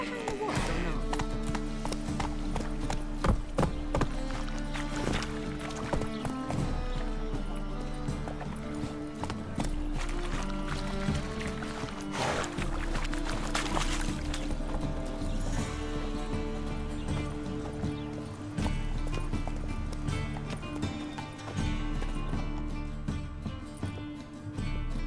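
Horse hooves clip-clop at a steady gallop in The Witcher 3, riding along under a dense, continuous bed of game music and ambience.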